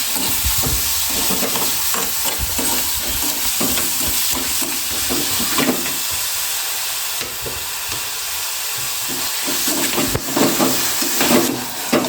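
Chopped green chillies and tomato sizzle and fry in a pan, with a steady hiss and frequent scraping, clattering stirring strokes close by throughout.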